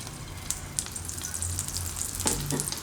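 Garlic uttapam frying on a pan over medium heat, a steady broad sizzle with faint crackles throughout, close and continuous, with no talking.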